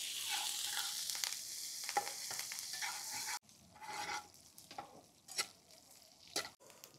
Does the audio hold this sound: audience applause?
no